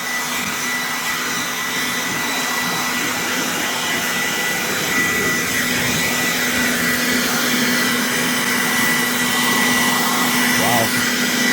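A cordless Aoetree 20V jobsite blower runs steadily at full power, with a loud, constant whooshing whine and a droning tone that hold without a break for the whole stretch.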